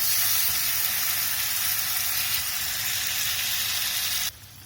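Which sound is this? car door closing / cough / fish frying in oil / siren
fish frying in oil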